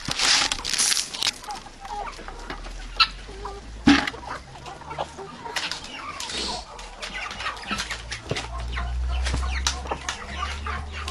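Domestic chickens cluck and flap while feeding on scattered grain in a village yard. The clucks are scattered and moderately near, with wing flutters and handling noises between them, and no talk.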